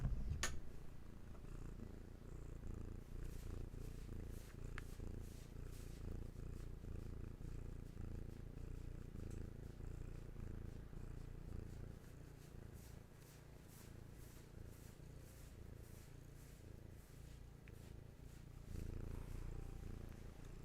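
A cat purrs softly and steadily up close, a low rhythmic rumble continuing for a long stretch with faint occasional clicks and no talking.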